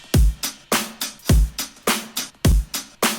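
A punchy drum groove plays alone: booming kick hits alternating with snappy snares and crisp cymbals, dynamic and uncompressed, with clear peaks and quiet gaps between hits.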